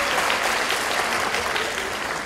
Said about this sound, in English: Now clap if you want an exciting one.